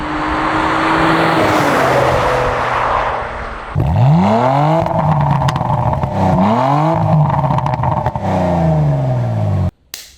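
A Porsche Macan GTS fitted with an ArmyTrix exhaust, valves open in sport plus mode, revs hard in loud repeated bursts, the engine note climbing and falling several times close by.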